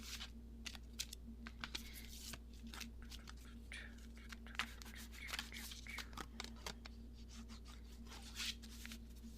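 Quick irregular riffling and soft clicking of oracle cards being shuffled up close, with short bursts over a low steady hum.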